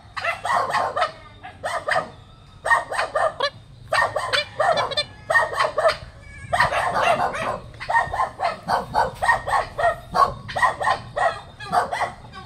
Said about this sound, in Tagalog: Mga pabo, mga pabo, pabo